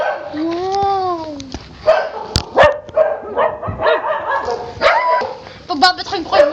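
A dog barks and yips in a home setting, with several short barks and whimpering calls scattered through the clip, mixed with people talking nearby.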